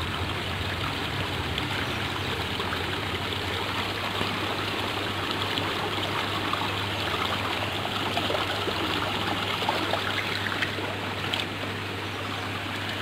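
Water rushes steadily into the channel of a hundred-year-old traditional gharat watermill, a constant close flowing roar with a low steady hum beneath.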